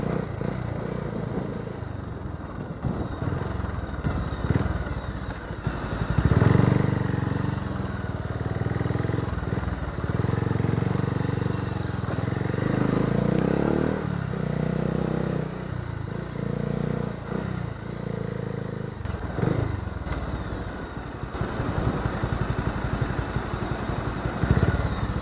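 A KTM motorcycle on a road test in Baguio City revs and idles up and down in uneven bursts, a rough clattering engine close by, with no talk.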